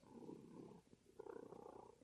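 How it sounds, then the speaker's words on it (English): A cat purrs softly and steadily at close range in two drawn-out rumbling phrases with a short pause between, quiet and alone with no talk. "purring away"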